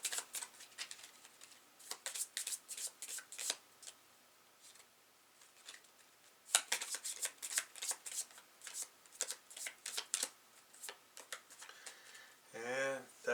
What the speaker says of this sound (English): And then shuffle alien counter cards back into the deck.